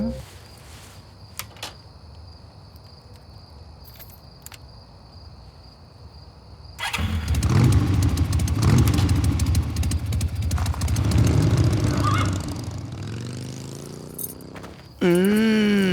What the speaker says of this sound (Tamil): அவன் கீயை போட்டு வண்டி எடுத்துட்டு போயிருக்கான்.